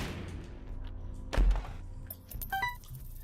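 In-game bomb blast in The Binding of Isaac Rebirth, a single dull booming thump partway through over a low game background hum, followed by brief chiming game effects.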